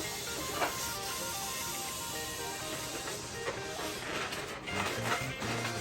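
Air hissing steadily out of a 10-inch brown latex balloon as it deflates, a continuous broadband hiss lasting several seconds at close range with no talking.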